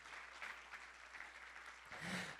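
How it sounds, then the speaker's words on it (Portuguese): A church congregation applauds during a sermon, a faint, steady patter of many hands clapping with a slight swell near the end. "dê uma salva de palmas ao Senhor"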